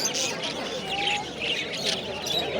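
Many small birds chirp and tweet constantly at a bird and pigeon market in Fatullah, Narayanganj, Bangladesh, a dense busy chorus with a faint murmur of people in the background.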